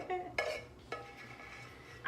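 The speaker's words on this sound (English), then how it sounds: "scraping the pan to get the very last teaspoon of cookie" Spoon scraping leftover cookie batter from a metal pan, a few short close clinks and scrapes separated by quiet gaps, no talking.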